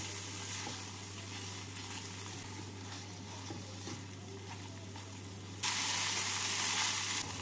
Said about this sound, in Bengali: মাছ দিয়ে মশলার সাথে 2 মিনিট মতো ভেজে নিচ্ছি।